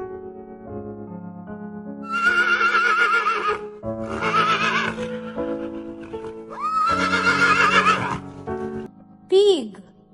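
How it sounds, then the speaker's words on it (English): A horse whinnies in three long, loud, quavering neighs over soft background music, with a short voice heard at the end. "Horse."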